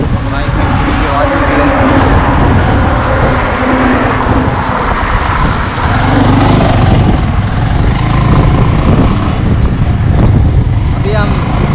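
A motorcycle rides slowly along a highway, with a steady, loud rumble of engine, road and wind noise that holds throughout without a break.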